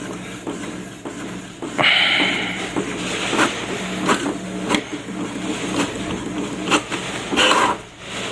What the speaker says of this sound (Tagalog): Test print ulit tayo.